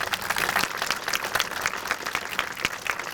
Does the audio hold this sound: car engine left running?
no